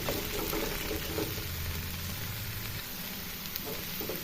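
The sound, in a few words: okra (bendakaya) pieces frying in oil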